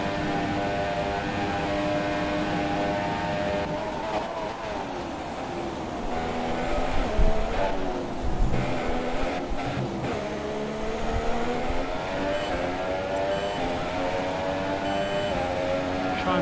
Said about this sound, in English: So I like to hear the engine a bit louder.